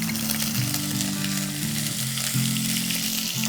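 Ginger paste hits hot oil in a pan for a Bengali dhokar dalna, giving a loud, steady close-up sizzle that stays dense and bubbling throughout, with no voices.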